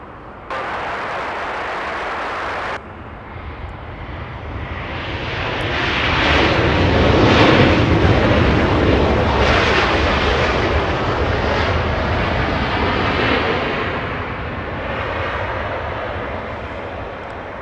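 Southwest Airlines flight 1906, an 18-year-old Boeing 737-700, lands at Los Angeles International Airport, its jet roar swelling loud and broad as it passes close, then easing into a steady, fading rumble.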